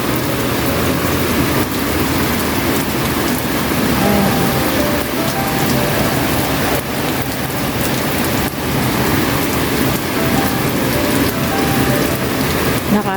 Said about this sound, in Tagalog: talagang lumakas na po yung kanyang ulan